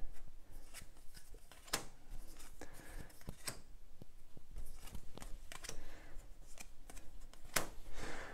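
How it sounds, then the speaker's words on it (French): Cards from the board game Demeter are turned over on a table, giving a quiet run of crisp flicks and snaps spaced irregularly over several seconds, close by and soft. "Je retourne mes cartes."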